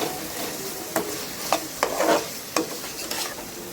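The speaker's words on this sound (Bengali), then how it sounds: "এরপর একবার ঢাকা দিয়ে এবার খুলে নাড়াচাড়া করে 5 মিনিটের মতো আলুটা কষিয়ে নিচ্ছি" Potatoes being stir-fried in spice masala in a pan for tangra fish curry, with a low continuous sizzle broken by several sharp scraping and clattering strokes of a spatula against the pan.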